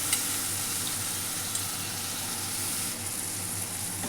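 Sprouted moth beans and potato sizzle steadily in a hot pan while being stirred, a continuous close frying hiss with faint scraping and no talk.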